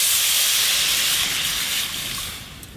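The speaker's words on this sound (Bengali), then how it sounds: "এই যে এবার জল ঢেলে দেব।" Water poured into a hot pan of fried small fish and ingredients for a Bengali sour curry sets off a loud, steady steam hiss that fades slightly toward the end, with no talking.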